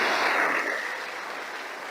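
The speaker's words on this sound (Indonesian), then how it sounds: "Mohon aplaus untuk Mr. Lee Jin Yen Bapak Ibu sekalian." Applause from an audience at an Indonesian business opportunity presentation, greeting the company chairman, a dense wash of clapping that is loudest at the start and eases slightly while it continues, with no voices over it.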